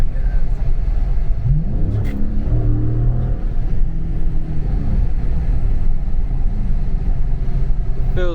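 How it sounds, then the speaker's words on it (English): A Scat Pack car accelerates hard in snow, its engine rumbling loudly and steadily as the wheels spin, close up, with a voice talking briefly over it. "Dude, it's just spinning every time I touch that gas."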